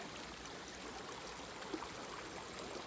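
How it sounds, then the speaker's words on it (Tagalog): A river flows in the Philippine countryside with a steady, faint broadband rush of water that stays constant and unbroken. No voices are heard over it. "Sa may ilog."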